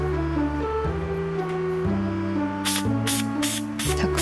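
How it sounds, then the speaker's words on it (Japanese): A spray bottle mists the leaves of a lady palm to treat scale insects, letting out about four quick hissing bursts near the end over steady background music. "たくさんスプレーを吹きかけておきました。"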